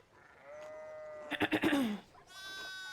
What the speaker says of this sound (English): Need to get these sheep under control.